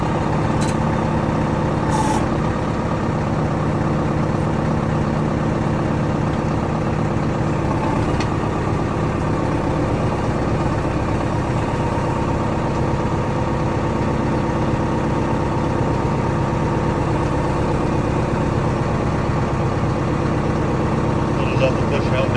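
A farm tractor that has just been started idles steadily up close, a continuous loud, even rumble that holds throughout with no change in pace.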